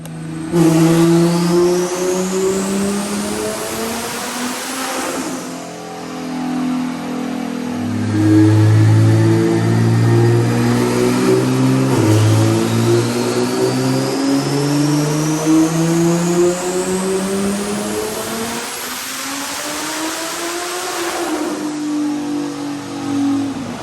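A BMW F80 M3 tuned to about 1100 wheel horsepower revs hard to redline on a dyno, its loud engine roar climbing in pitch through repeated pulls, alone and close, with no talk.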